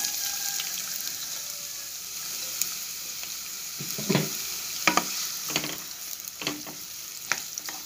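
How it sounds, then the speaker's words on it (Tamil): Chopped onion sizzles steadily in hot oil, with occasional scraping stirs of a spoon against the pan. "பொடியாக நறுக்கி ஒரு வெங்காயம் வச்சுருக்கேன் எண்ணெயில் ஆட் பண்ணிக்கலாம்"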